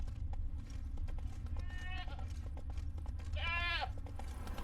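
Roach the horse in The Witcher 3 clip-clops steadily at a walk, soft and close, under a low constant rumble, with a brief whinny-like call partway through.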